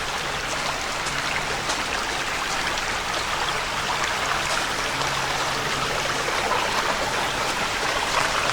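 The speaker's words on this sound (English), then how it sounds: "There's a nice little waterfall, little baby one." A small woodland waterfall in a stream in a Pennsylvania state park gives a steady, broad rush of flowing water that holds evenly throughout.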